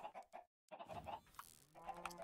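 Chickens cluck in the video game QSMP Minecraft, a few short clucks and fowl calls close by, broken by a brief moment of silence.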